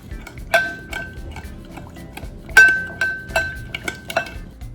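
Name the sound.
mixing wild rice dish in a pot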